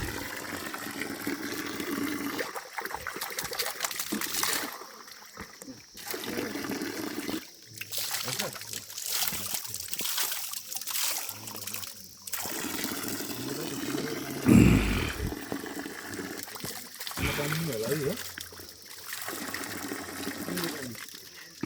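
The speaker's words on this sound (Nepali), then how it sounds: "पानीको धारा यो चाहिँ मलाई साह्रै मनपर्छ" Water running from a village water spout in Nepal, a steady trickling flow heard under ongoing conversation between several people nearby.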